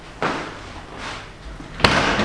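The front door of apartment unit 101 in an old Minneapolis building, with an original oval glass pane, opens with a soft latch click, a low bump and a sharper closing knock near the end.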